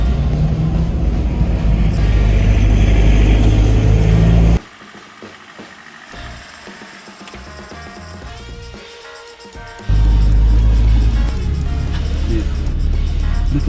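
A Twisted Land Rover Defender is driven off-road, its engine a loud low rumble that drops to a quieter, muffled stretch in the middle before the heavy drone returns.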